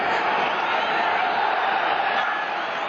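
A large, emotional football crowd at Shea Stadium, Green Bay Packers at New York Jets, roars as a steady, dense wash of cheering and shouting that holds loud and even from start to finish.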